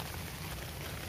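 Rain falling at a reservoir during a fishing trip, a dense, even hiss of drops with no break and no clear voices.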